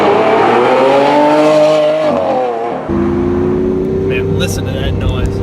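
A Lamborghini Aventador SV engine roars loudly and close, its pitch climbing steadily before dropping sharply as the gear shifts, then settling into a deep, steady drone.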